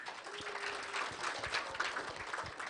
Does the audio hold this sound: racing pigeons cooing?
no